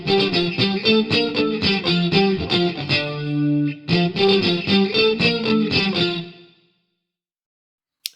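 Bright, wide 1980s-style pop guitars play strummed chords and arpeggiated patterns through a bright plate reverb and chorus-like effects, loud and close, then the last notes ring out into silence.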